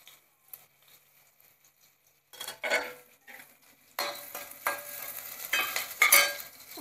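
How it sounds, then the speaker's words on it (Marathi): Finely chopped onion dropped into hot oil in a pan, bursting into loud sizzling frying after a quiet start, with stirring and scraping clatter of a utensil against the pan, close up and alone. "तेल गरम झालं की याच्यामध्ये घालायचा एक छोटासा कांदा बारीक चिरून घेतलेला आहे आपण."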